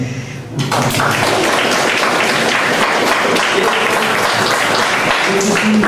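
Loud, dense applause from an audience at a talk on autoimmune disease breaks out after a brief quiet start and carries on steadily to the end.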